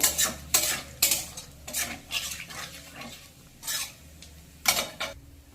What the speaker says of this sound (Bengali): অল্প করে কালো জিরে, আর 2-3টে তেজপাতা দিয়ে হালকা করে 1-2 সেকেন্ড সাঁতলে নেব মশলাটাকে ভালো করে